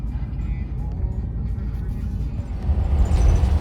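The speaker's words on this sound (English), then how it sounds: "We're driving to a level area where we could hook up the car to the RV." An RV rolls through a campground at a state park in Arkansas, giving a steady low engine and road rumble from inside the vehicle that swells slightly near the end.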